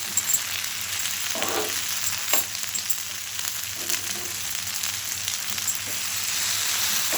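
Eggplant fries in a pan with a steady close sizzle, and a few scraping knocks mark the pieces being turned over. No one speaks.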